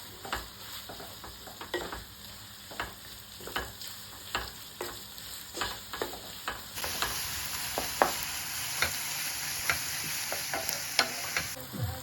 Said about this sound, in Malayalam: ഉള്ളി നന്നായിട്ട് വഴണ്ട് കിട്ടുക